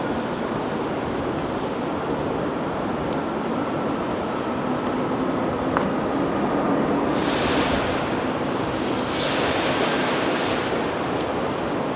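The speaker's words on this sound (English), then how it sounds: "Sounds of the cars driving above." Cars crossing a bridge overhead, heard from underneath beside calm water: a steady, heavy rumbling roar with a brighter swell of passing traffic toward the end, no voices.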